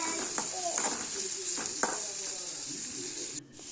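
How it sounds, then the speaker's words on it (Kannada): Chillies, garlic, ginger and curry leaves frying in a pan for sambar, a steady close sizzle with scattered stirring scrapes and clinks from a utensil. "ಮೆಣಸಿನ್ಕಾಯಿ ಬೆಳ್ಳುಳ್ಳಿ ಶುಂಠಿ ಕರಿಬೇವು ಇದನ್ನೆಲ್ಲನೂ ಹಾಕ್ಕೊಳ್ಳಾತೀನಿ ಇದನ್ನೆಲ್ಲನೂ ಹಾಕೊಂಡು ನಾವು ಸ್ವಲ್ಪ ಫ್ರೈ ಮಾಡ್ಕೋಬೇಕು"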